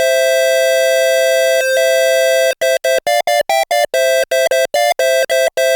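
A bright, buzzy ARP Odyssey synthesizer tone holds steady, then breaks into rapid staccato notes, with two oscillators sounding duophonically and shifting between intervals.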